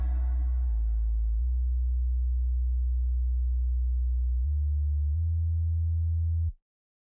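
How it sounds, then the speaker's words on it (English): A plain sine wave sub bass from the Serum synth plays a sequence of sustained low notes, changing pitch several times before stopping abruptly, with no other sounds. "For the sub bass I have used the most simple sine wave in Serum."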